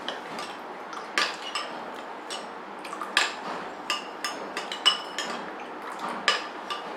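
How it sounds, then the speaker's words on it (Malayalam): Custard powder being whisked into cold milk in a bowl, a spoon or whisk clinking sharply against the sides in irregular taps, quiet and close with no talking. "ലംസ് ഒന്നും ഇല്ലാത്ത, അതായത് കട്ടയൊന്നും ഇല്ലാത്ത രീതിയിൽ നല്ലോണം ഇത് മിക്സ് ചെയ്തെടുക്കുക"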